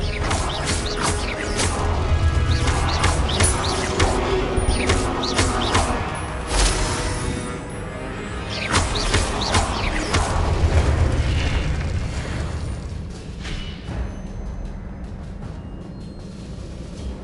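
Expelliarmus spell being cast in Hogwarts Legacy: a rumbling magical boom with crackling bursts and impacts, loud at first, then easing off and swelling again before fading.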